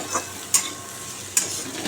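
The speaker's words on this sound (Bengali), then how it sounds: "একদম ডাইরেক্ট তেলের সাথে তুমি নিম পাতা আর কুমড়োটা আমি ছেড়ে দেবো" Neem leaves and pumpkin pieces sizzle in hot oil with a steady loud hiss, broken by two sharp clinks of a utensil against the pan.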